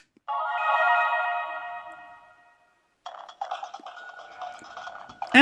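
Appmon AppliDrive toy playing its electronic waiting sound after an Appmon chip is pushed in, a sustained bright chiming tone that fades out, then a burst of quick beeping electronic jingles, alone and close.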